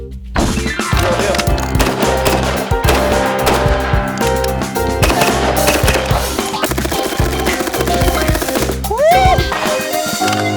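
An H&K G36 rifle fires long, loud, rapid bursts of close gunfire at a range, with a sharp metallic rattle and echoing reports running nearly continuously.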